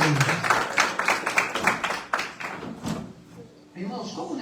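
A church congregation claps along in a steady rhythm during a worship service, loud, close hand claps with voices mixed in, fading into quieter room sound near the end.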